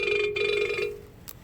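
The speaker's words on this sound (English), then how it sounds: "I got a phone call" An incoming call rings a phone inside a car, a bright electronic ringtone that sounds for under a second and then cuts off, leaving quiet background.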